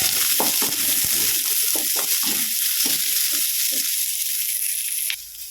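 Garlic cloves and small shallots frying in a pan for a hamour fish curry, a loud continuous close sizzle with stirring scrapes and knocks throughout, dropping off abruptly near the end.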